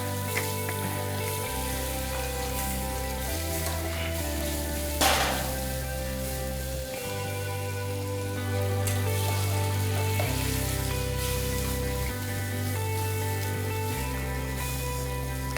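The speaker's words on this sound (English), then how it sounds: "So the purpose of sauteing the vegetable is basically to give it that glossiness" Vegetables sauté in butter in a hot pan, giving a steady, close sizzle and frying hiss throughout with occasional stirring, while background music plays.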